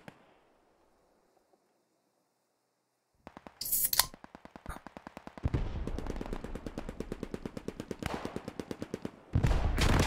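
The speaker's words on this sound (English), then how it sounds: "MG fire has started just northeast of us." Machine gun fire in a WWII video game set at Driel during Operation Market Garden, starting after a near-silent opening with scattered shots, then long rapid bursts of evenly spaced rounds, loud and close, with a heavier burst at the end.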